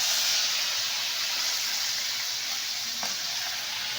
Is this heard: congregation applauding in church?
no